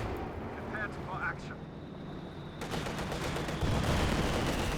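Tank gunfire and explosions crackle faintly in a Company of Heroes 2 battle, a dense, continuous layer of distant shots and blasts beneath a commentator talking over them.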